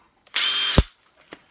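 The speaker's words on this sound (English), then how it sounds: "as soon as the hammer stops hammering, it stops spinning" Makita DTW285Z cordless impact wrench running in a long, loud, continuous hammering burst of about half a second, then winding down, followed by a faint short click.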